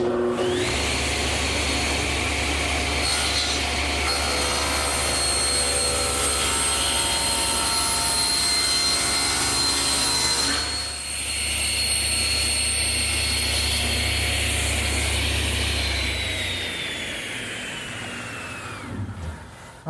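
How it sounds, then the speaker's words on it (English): Loud, continuous whine of a panel cutter saw squaring up a wooden chair blank in a woodworking shop, the motor droning with a brief dip midway before the cut resumes and the pitch winds down toward the end. "Oh, my panel cutter sure makes an easy job of squaring up the bottom."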